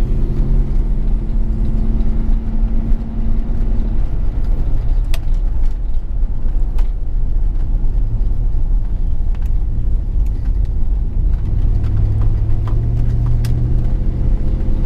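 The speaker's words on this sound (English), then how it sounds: "So let's just go for a little drive around here" A car driving around, with a steady, continuous rumble of engine and road noise that holds for about fifteen seconds, with no talking.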